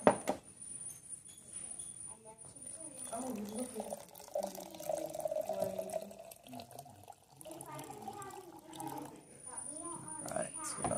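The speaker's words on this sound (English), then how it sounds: "I'm going to fill this up to 1 cup with water" Tap water running into a measuring cup, a steady trickle and splash that rises and falls for several seconds, faint against room quiet with a brief break midway.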